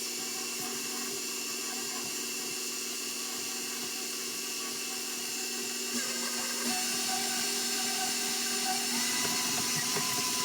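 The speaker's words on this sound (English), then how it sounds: "once you have those 2 in the mixer, you're going to put the paddle up and cream it" Stand mixer with paddle creaming butter and sugars, a continuous high whining motor drone that shifts slightly in pitch and grows a little louder partway through, with no voices.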